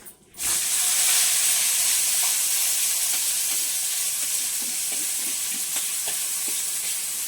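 Vermicelli (semiya) drops into a hot pan for semiya kesari and fries with a sudden loud sizzle and hiss that holds steady, while light stirring taps sound now and then.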